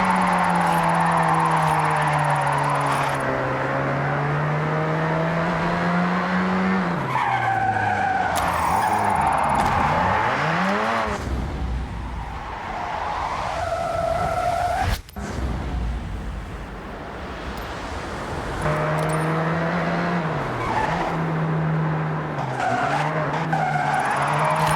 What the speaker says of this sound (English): With style, it's just skidding.